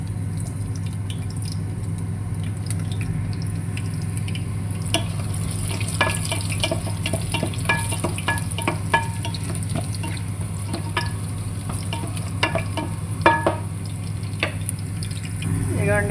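Garlic fries in a pan for tomato curry, a constant sizzle under a low steady hum, with clicks and taps from stirring scattered through it.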